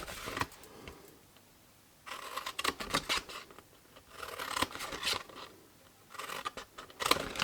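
Scissors snip through cube box panels during a papercraft build, in several short rustling bursts of cutting separated by quiet pauses, close and fairly crisp.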